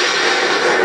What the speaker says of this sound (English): And of course the cannon.